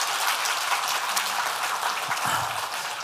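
Audience applause at a programmers' roast-style stage event, a dense, continuous wash of many hands clapping at once, close and even in level for the whole stretch with no talk over it.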